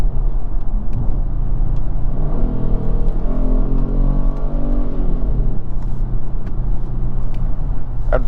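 A 2019 Kia Stinger GT1 with rear-wheel drive and an engine sound enhancer revs up from the cabin, a low droning engine tone rising and falling over steady road rumble.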